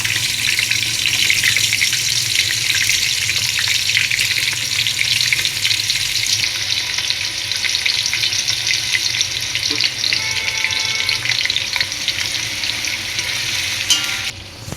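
Garlic and spices for chicken biryani frying in hot oil, a dense, continuous loud sizzle with occasional stirring scrapes, easing slightly toward the end.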